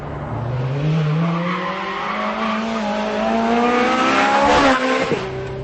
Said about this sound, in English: it's just zapped straight into the limiter